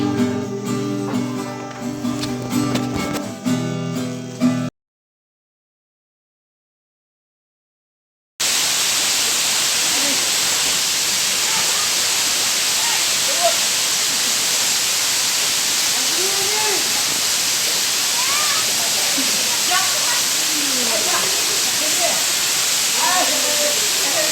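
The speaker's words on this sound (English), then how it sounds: "This is a beautiful waterfall at the place called Nongblai." Waterfall at Nongblai village, a steady broadband roar of falling water that fills the scene unbroken for most of the stretch, near and loud, with a brief music passage and a silent gap before it.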